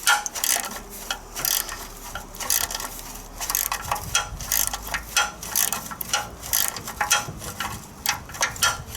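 Ratchet wrench working a rusted nut on a 1972 Triumph Spitfire chassis, a close series of sharp rapid clicking bursts in uneven strokes with brief pauses between, no voices.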